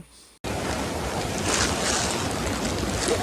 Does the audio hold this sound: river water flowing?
yes